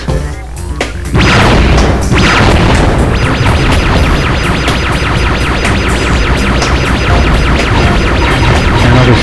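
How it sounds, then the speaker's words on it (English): Missile attack explosions in the PS1 game Spyro Year of the Dragon: a couple of sharp bursts, then a loud, continuous stretch of crashing, booming impacts with game music running underneath. "So now I must use my missile attacks."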